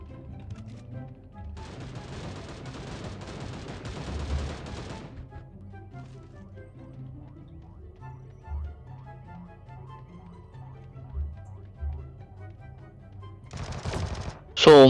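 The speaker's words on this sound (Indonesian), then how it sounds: "Ada yang nembakin gua." Rapid automatic gunfire in Sausage Man rattles in a sustained burst of a few seconds, then falls quiet under a low game hum before a shorter burst and a sharp final shot close by.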